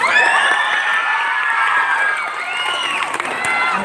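A crowd cheers and shouts at a youth council Mardi Gras event, with high-pitched, children-like voices in loud sustained whoops and yells that dip briefly and then rise again.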